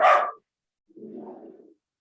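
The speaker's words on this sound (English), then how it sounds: "he barks when people come to the door" A dog barks twice, a sharp nearby bark followed after a pause by a lower, longer muffled woof, with silence around them.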